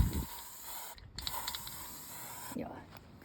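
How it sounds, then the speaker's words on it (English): A spray paint can hisses in short, faint bursts outdoors while cable lines are marked on the ground. "I'm running out of spray paint."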